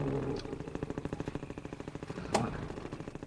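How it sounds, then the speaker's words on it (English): Metrocop strafing gunfire in the video game Half-Life 2, a rapid steady rattle of shots over the hum of an airboat engine, with a sharp crack near the middle. "The Metrocop strafing fire pattern was meant to make players slalom around the shots as they sped through"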